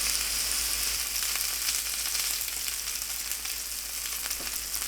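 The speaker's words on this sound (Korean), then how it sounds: "식용유 두른 팬을 중약불로 예열하고 파프리카를 올립니다." Paprika frying in an oiled pan over medium-low heat gives a soft, even sizzle that holds steady and fairly quiet throughout, with no talking.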